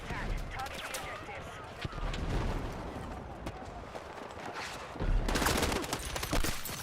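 Rapid carbine fire in Battlefield 6, M4-style bursts crackling amid a busy battlefield din, with a louder flurry of shots near the end; a person talks over the action.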